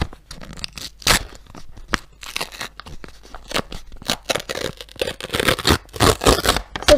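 A crunchy paper surprise packet is torn open and handled up close, with bursts of crinkling, ripping and crackling paper coming in irregular loud spurts, growing busier toward the end.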